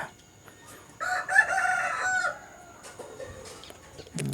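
A rooster crows loudly and close by among chickens being fed a mix of sugar and cooked rice, one long drawn-out crow followed by softer clucking from the flock.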